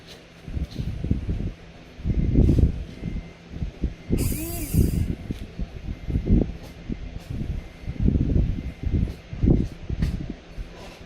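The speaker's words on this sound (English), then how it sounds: "It works. You can see the motor working." Whirring and ratcheting of a replacement windshield washer nozzle motor on an Acura RSX, tested dry before fluid is added, comes in repeated short mechanical bursts close by, with a brief high-pitched spray-like hiss midway.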